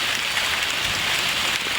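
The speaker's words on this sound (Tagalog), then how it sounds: "Umuulan na." Steady afternoon rain in a rural coastal area of the Philippines, a constant broadband hiss of drops falling on surfaces, close and even, with no voices.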